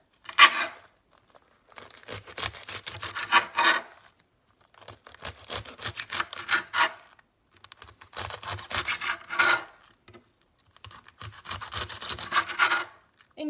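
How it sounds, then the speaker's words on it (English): A knife cuts salad vegetables into smaller strips on a board, four separate bursts of crisp, rasping slicing strokes separated by short pauses. "you're just going to take the ends of them and cut them into smaller strips"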